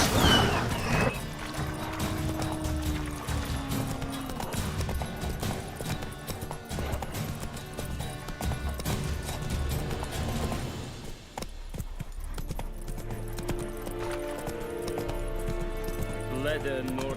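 Roach, the horse in The Witcher 3, gallops in steady, rapid clip-clopping hoofbeats that run for most of the time, loud and near. Background game sounds and talk mix in, and the hooves thin out toward the end.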